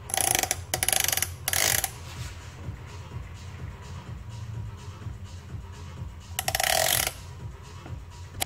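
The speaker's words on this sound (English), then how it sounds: "Let's put some threads in it." A hand tap cutting threads into an aluminium throttle-valve body from a Subaru STI, with repeated short ratcheting, grinding bursts near the start and again near the end, and quieter handling noise between them.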